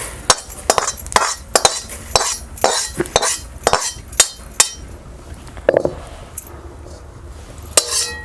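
Roasted coriander seeds scraped from a pan onto a plate with a metal utensil, giving a run of sharp, close clinks and scrapes in an irregular rhythm before tapering off.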